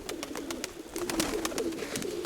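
Pigeons cooing in a steady, overlapping murmur, with soft wing flutters and faint chirps in the background, close by and moderately loud.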